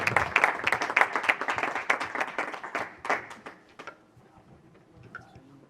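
An audience claps steadily in dense applause that fades out over several seconds, leaving quiet room noise.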